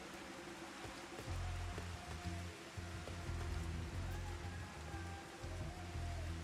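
Steady heavy rain pours in the video game Final Fantasy XIV, a continuous hiss of falling water with a low rumble, alone with no talk.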